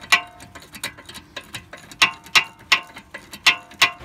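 A wrench loosens a snug brake caliper bolt on a BMW E70 X5, giving a close, rhythmic series of sharp ratcheting clicks in uneven bursts.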